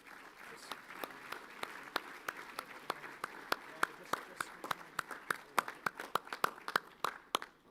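Applause for academic award winners at a school assembly, heard as a sparse scattering of sharp, distinct claps that gradually thicken. The sound is faint and roomy, as if from a hall, and a voice talks briefly beneath it.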